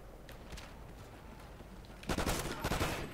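Burst-fire gunshots from a shooter video game crack out in a quick, loud cluster near the end, following a quieter stretch of faint scattered game noise.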